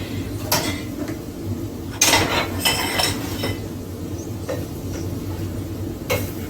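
Crab legs being stirred in a pot on a hot stove burner, with repeated metallic clinks and scrapes of a utensil against the pot in an irregular rhythm over a low steady hum, close and without speech.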